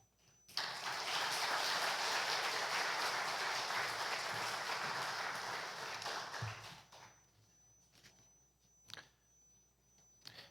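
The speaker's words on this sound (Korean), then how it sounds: "우리 이기준 선교사님 나올 때 우리 힘찬 격려의 박수로 환영하겠습니다" A church congregation gives sustained applause to welcome a missionary, a thick wash of clapping that holds for about six seconds, then fades to quiet with a few scattered taps and footsteps.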